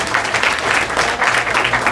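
An audience claps together at a Buddhist sermon in a hall, a dense, steady wash of many hands that lasts the whole stretch without a break.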